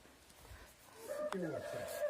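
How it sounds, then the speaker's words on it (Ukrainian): Chickens in a rural farmyard with nesting hay, soft clucks and a rising hen call near the end, moderately close over faint background noise. "І тут у нас є курицькі."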